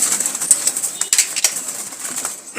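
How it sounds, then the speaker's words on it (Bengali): Black wild jalali pigeons flap their wings in quick, close bursts with faint cooing mixed among the rustling. "এটা হচ্ছে রানিং নর কবুতর একটা, এটা হচ্ছে একটা মাদি, আর উপরে ওটা হচ্ছে একটা নর।"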